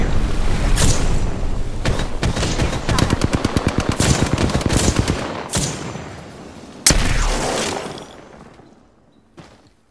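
Rapid automatic gunfire in the shooter game Apex Legends, loud and close, with bursts of evenly spaced shots, a few heavier blasts and pauses between volleys, fading at the end.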